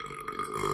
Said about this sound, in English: We doing a quick burping video.